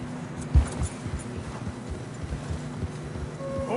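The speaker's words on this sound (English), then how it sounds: "Horses are struggling." Horses plodding through deep fresh snow in the Red Dead Redemption 2 video game, soft muffled hoof thuds in an uneven rhythm with a louder thump near the start, close by.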